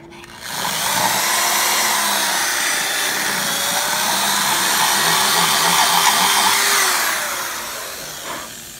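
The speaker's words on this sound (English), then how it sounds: "drill out my slot at the top" A drill bores a slot into the top of a bamboo piggy bank with a loud, steady, high whir that holds for about six seconds, then winds down, followed by a faint knock.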